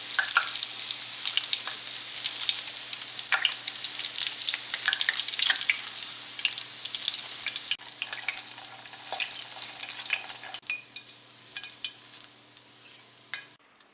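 Mozzarella cheese sticks deep fry in hot oil, a bright, busy crackling sizzle with bubbling pops that holds steady and close, easing slightly toward the end, with no voices.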